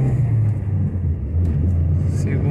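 A Chevrolet Onix with a 1.4 engine accelerates in first gear, a steady low droning engine rumble heard from inside the car, with a voice speaking briefly over it.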